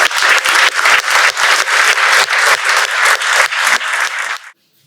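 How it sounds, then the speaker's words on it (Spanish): A lecture audience applauds an honorary doctor being introduced, a loud burst of clapping with a rhythmic swell that ends abruptly in silence. "a quien les pido un aplauso, por favor"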